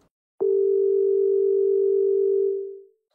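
A telephone dial tone sounds as a single steady, loud pure hum before a call. It starts abruptly, holds for about two seconds and then fades out.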